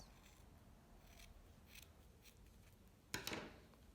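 Scissors snip through a crochet yarn cord: a single sharp cut near the end after faint handling rustles in a very quiet room.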